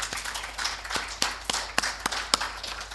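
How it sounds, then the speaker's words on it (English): Conference audience applause after a session, a thin scattering of individual claps close by over a faint background patter, uneven and sparse rather than a full ovation. "let's give them a round of applause"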